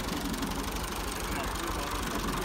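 An old tractor engine drives a chaff cutter through a shaft, giving a steady, close, throbbing mechanical drone with a knocking rumble that continues without a break.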